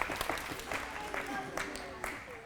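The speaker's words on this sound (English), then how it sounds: "Round of applause for the winners." Group applause for the winners of a teambuilding competition, a brief burst of scattered clapping that overlaps with talking and tapers quickly.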